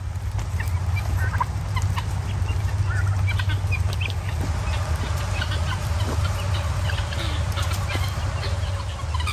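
Farm fowl such as chickens and turkeys call close by outdoors, with steady clucking and occasional gobbles layered over a constant low rumble, no talking heard.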